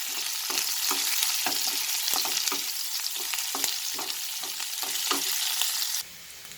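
Onion slices sauté in a pan for a cabbage potato curry, a steady bright sizzle with irregular stirring clicks and scrapes, loud and close throughout, dropping slightly near the end.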